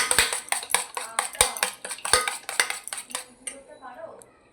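Spoon rapidly clanking against a bowl while mixing chili powder and chaat masala, a quick run of sharp metallic strikes that slows and thins toward the end, close and clear.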